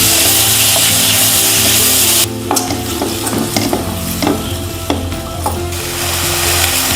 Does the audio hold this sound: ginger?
yes